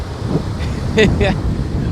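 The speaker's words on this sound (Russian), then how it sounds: "Море шумит, разливается по полной программе." Black Sea surf breaking on a beach at Varna, a steady broadband wash of waves with wind rumble, plus brief faint voice-like sounds partway through.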